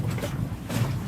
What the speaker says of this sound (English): We're actually sailing at a decent speed here.